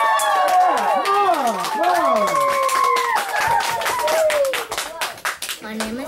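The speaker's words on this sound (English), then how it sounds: "Come on, cheer!" Children at an elementary school second-grade reading event cheer and clap, with many high voices shouting over rapid, close hand clapping that fades toward the end.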